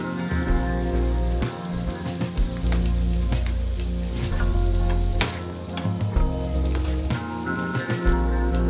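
Sliced onions fry in hot oil with dried red chillies, curry leaves and turmeric for a red chilli egg curry, giving a loud, steady, close sizzle with crackling pops and no talking.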